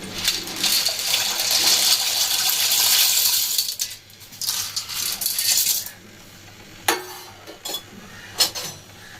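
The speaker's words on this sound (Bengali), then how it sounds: "দিয়ে দিলাম অল্প একটুখানি নুন, তারপর দিয়ে দেবো সব পাস্তাগুলোকে" Pasta pours into a pot of boiling salted water, a loud rattling rush of dry pieces hitting the water, followed by a few scattered clinks and knocks, nearby and with no talking.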